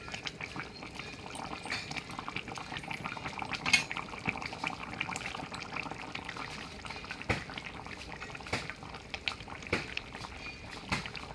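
A pot of tilapia fish curry comes off the stove: faint simmering bubbles with scattered metallic clinks and light pot clatter, quiet and close.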